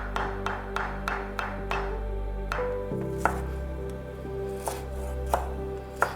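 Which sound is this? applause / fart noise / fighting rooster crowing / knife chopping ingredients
knife chopping ingredients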